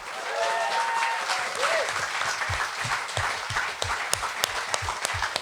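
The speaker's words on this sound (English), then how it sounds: "And a round of applause for everyone who made this event possible." Audience at a live Novara Media political event applauds steadily throughout, a dense wash of clapping filling the room with a few sharper individual claps standing out near the end.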